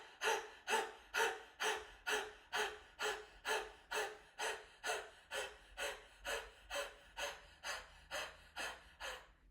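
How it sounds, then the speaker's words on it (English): Repeated forceful exhalations on a throaty ha sound during a detoxifying breath exercise, about twenty steady rhythmic breaths, close and fairly quiet, with no talking. "exhale on a ha sound from the back of the throat"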